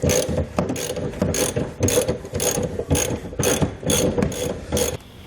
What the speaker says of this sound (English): We're going to need a 21 millimeter socket, and this is what we're going to use to lower the spare tire.